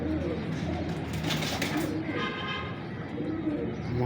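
Close, low cooing from a female Teddy pigeon of Lakha breeding carries on without a break, overlapped by a brief higher chirping burst partway through and a thin tonal whine toward the end.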